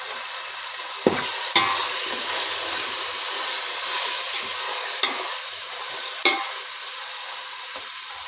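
Masala with chili powder frying in a pan for biryani, a loud continuous hiss of hot oil close up, broken by a few sharp scraping clicks of stirring, with no voices.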